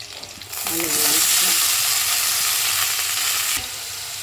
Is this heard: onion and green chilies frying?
yes